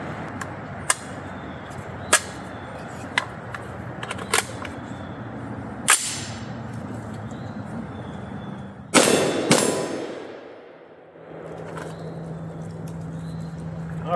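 Shots from a Bear Creek Arsenal 7.5-inch .223 Wylde pistol, a handful of sharp reports spaced a second or more apart, then a louder blast whose noise fades out, heard at a distance over outdoor background noise.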